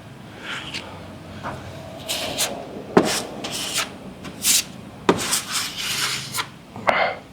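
Block sanding of body filler over a car dent repair, with uneven rasping strokes and scraping rubs close up, some sharper bursts between quieter passes.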